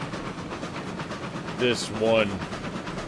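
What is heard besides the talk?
steam train moving in RailRoads Online video game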